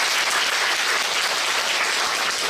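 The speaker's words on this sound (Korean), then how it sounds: "배우 여러분들께 다시 한번 큰 박수 부탁드리겠습니다" A theatre audience gives dense, steady applause after a post-show talk with the cast. The clapping is loud and even throughout, with no speech over it.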